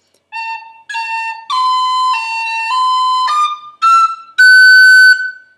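A tin whistle plays a short phrase of the Irish tune The Connachtman's Rambles. Clear, pure notes sound up close, some tongued and some slurred, rising to a long held high note at the end, alone with no talk.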